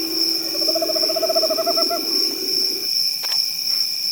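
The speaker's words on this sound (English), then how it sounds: "This is a spectacled owl." At night in Suriname, a spectacled owl gives a run of quick, accelerating pulsed hoots for about two seconds over a constant backdrop of shrill insects, then falls silent.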